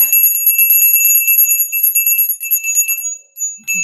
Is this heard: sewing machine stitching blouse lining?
no